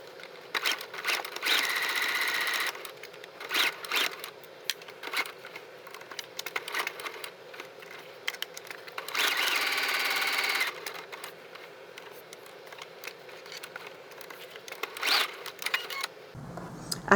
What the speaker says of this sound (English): We're going to stitch right on the edge on both sides to make this little loop.